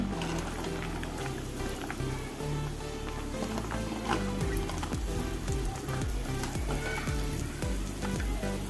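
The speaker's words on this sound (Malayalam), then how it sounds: "ഇനി മാങ്ങ ഇട്ട് കൊടുക്കാം" Mango pieces drop into hot masala in a pan for mango pickle, setting off a loud, steady, bubbling sizzle with crackling spatters that continues throughout.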